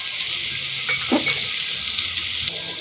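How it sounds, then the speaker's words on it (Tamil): Kuppaimeni chicken soup ingredients sauté in a pan with a steady, close sizzle and a brief stirring scrape midway. No one speaks. "நல்லா போட்டதுக்கப்புறமா நல்லா ஒரு வதக்கு வதக்கிடலாங்க."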